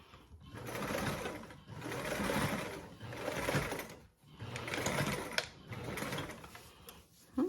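A sewing machine stitches a seam on a small fabric charm in steady whirring runs, with four sustained bursts separated by short pauses and a close, even motor hum.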